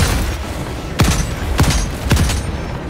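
An energy gun fires in Helldivers 2, three sharp loud shots spaced about half a second apart, each with a quick falling zap tail over a dense battle backdrop.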